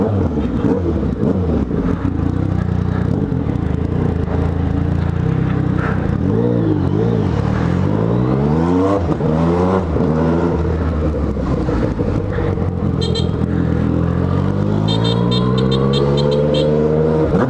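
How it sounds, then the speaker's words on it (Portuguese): Road traffic sounds around a rider on a Yamaha MT-09 motorcycle: a loud, constant engine and road roar, with engine revs rising and falling in sweeping waves, close to the microphone. "Nossa, trânsito em tudo que é lugar"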